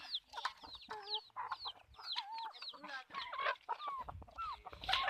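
Country chickens at night on a forest farm cluck and squawk in overlapping bursts, several birds close by, calls rising and falling continuously with no talk.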